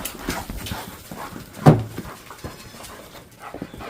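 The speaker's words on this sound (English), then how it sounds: "Now we can let the puppies out." Puppies are let out on a farm, with a dog's brief whimpering yelps and scuffling, padding movement against a faint outdoor background. One louder bark-like burst stands out midway, and there is no talking.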